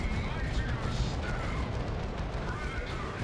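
A las cannon fires during a Dawn of War 2 battle, heard as dense, continuous rumbling game combat with booming explosions and gunfire and no clear single shot, loud and busy throughout.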